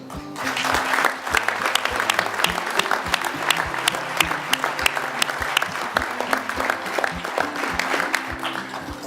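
Audience at the Tesla Gigafactory announcement applauding, sustained crowd clapping with sharp individual claps standing out, loud and close.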